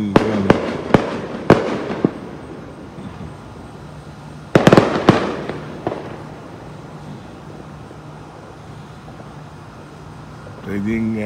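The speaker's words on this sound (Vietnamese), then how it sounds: "tôi nghe tiếng pháo hoa" Fireworks burst during an American Independence Day celebration, with a volley of sharp cracks followed by booming blasts that fade into a lingering rumble. The bursts sound moderately distant and are heard alone.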